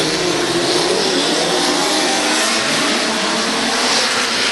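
Micro sprint race cars accelerating flat out on a dirt speedway, a continuous loud, dense engine roar filling the whole stretch with no pauses.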